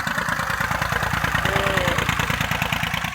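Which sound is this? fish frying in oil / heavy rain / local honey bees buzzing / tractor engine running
tractor engine running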